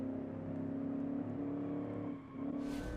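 A car engine in a driving video game holds a steady, droning rev with a strong tonal hum, dips briefly, then climbs again with a burst of hiss at the end; no voices.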